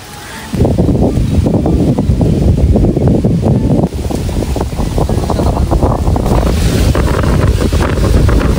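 Strong, roaring typhoon wind from Typhoon Pepito buffets the microphone nearly nonstop, loud and rough, with the rush of waves and water beneath it.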